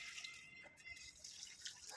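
Water mixed with about 30 ml of plant booster being poured into potted plants: a faint, steady trickle and light dripping, quiet and close.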